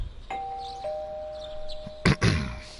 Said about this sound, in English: You hear the doorbell ringing.